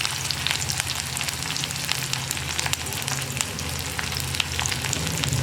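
Curry leaves and dried red chillies fry in hot oil with a steady, dense crackling sizzle, close and continuous, while someone speaks over it.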